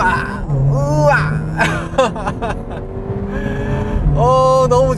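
Engine of a Mercedes-Benz A45 AMG accelerating hard from a race start, rising in pitch through quick gear shifts, loud and close inside the cabin, with excited voices over it.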